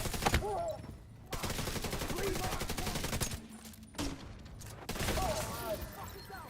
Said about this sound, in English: Oh, that's one. That's a mortar turret.